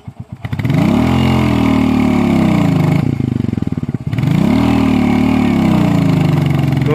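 A Royal Enfield motorcycle engine runs loud and close, starting up and then revving in a steady low thump. It drops briefly around the middle before it picks up again.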